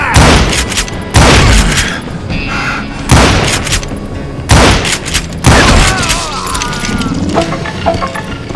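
Gunfire in the Wild West shooter Call of Juarez: Gunslinger, five loud, close booming shots spaced about a second apart, each with a ringing tail, over a busy game soundscape with no talk.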